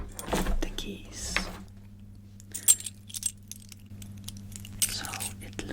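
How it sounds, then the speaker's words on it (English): Keys on a carabiner-hook keyring with six exchangeable rings jangle and clink in a few scattered bursts, close and fairly quiet over a low steady hum, with brief soft taps between. "Keyring with carabiner hook with design 6 exchangeable rings"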